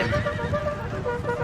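A horse whinnies amid the din of a Napoleonic cavalry charge in the strategy video game Napoleon Total War, set against dense battlefield noise.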